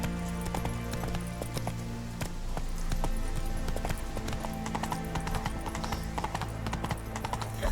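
Horse Roach galloping in The Witcher 3, steady rapid hoofbeats clopping close and continuous over a low ambient game soundtrack.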